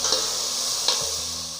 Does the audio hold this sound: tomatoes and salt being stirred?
yes